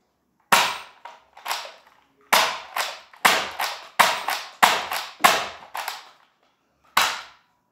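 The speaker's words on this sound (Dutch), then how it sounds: "Ga je hem tegen de kast schieten." A modified Nerf Elite 2.0 blaster fires darts at a wooden cabinet, about eleven sharp, loud cracks arriving singly and in quick pairs with brief pauses between, no talking.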